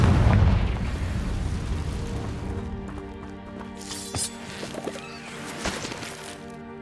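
A Confringo blasting spell in Hogwarts Legacy, one heavy booming explosion at the start that rumbles and fades, followed by a few quieter pops and thuds.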